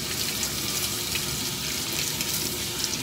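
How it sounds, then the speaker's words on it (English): Running water rinses a Boxer dog during a grooming bath, a steady hiss of spray and splashing with no pauses and no voices. "Time to rinse the thermoactive mask."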